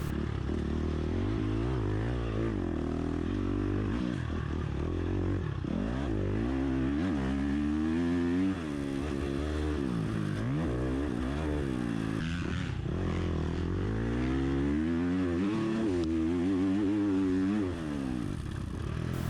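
A dirt bike engine pushed hard through a motocross sprint enduro lap, loud and close throughout, revving up and down in constant waves as the rider shifts and accelerates, with clattering over rough ground.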